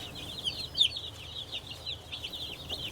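A flock of about two hundred meat chicks, ready to move out to pasture on a farm, peep and cluck softly in a continuous high-pitched chatter, with brief louder chirps standing out.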